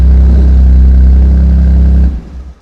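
A cold BMW M2 Competition with the S55 engine and a modified exhaust holds a loud, steady rev at around 2,500 rpm at close range for about two seconds, then drops off abruptly as the throttle is released.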